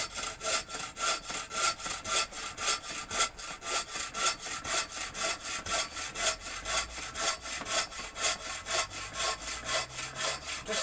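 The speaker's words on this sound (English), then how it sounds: "just listening to that and seeing that piece of wood drop off" A saw cuts through firewood in fast, steady back-and-forth strokes, a rasping, gritty scrape repeating rhythmically up close with no talk.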